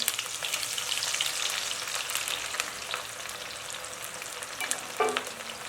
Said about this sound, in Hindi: इनको मैं ऑयल में डाल दूँगी। ये ऑयल अच्छा खासा गर्म हो चुका है।